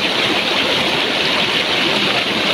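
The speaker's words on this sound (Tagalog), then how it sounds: "sariwang tubig galing sa paanan, hindi sa paa, sa paanan ng Bulkan Mayon" Fresh spring water flows steadily at the foot of Mayon Volcano, a close, continuous rushing with no voices over it.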